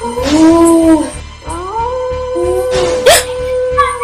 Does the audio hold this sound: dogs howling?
yes